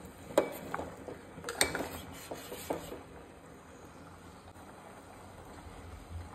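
A spoon scrapes and taps quietly in a pot while Goan-style lady fish curry is stirred, a few soft clinks and rubbing strokes early on that fade into a low, near-silent simmer.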